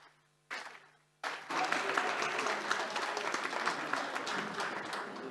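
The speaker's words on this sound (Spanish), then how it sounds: "Un fuerte aplauso, por favor." An audience breaks into sustained applause after a short pause, many hands clapping densely and steadily in a conference hall, with a brief voice heard just before.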